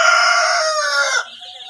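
Egyptian Fayoumi chickens at a farm in Rangpur give a loud, close crow with clucking, which breaks off abruptly into quieter background fowl sounds.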